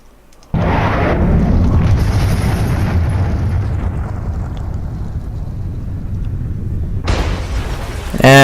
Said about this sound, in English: incendiary missile